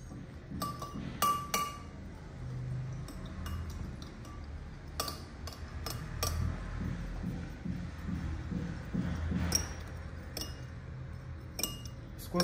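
Homemade liquid hand wash being mixed in a container, with repeated glassy clinks and scraping taps of a utensil against the vessel, fairly close and steady, no talking.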